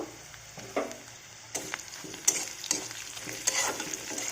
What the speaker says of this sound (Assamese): পিয়াজখিনিৰ কালাৰটো গোল্ডেন ব্ৰাউন হোৱালৈকে মই 2 মিনিট মান ভাজি লম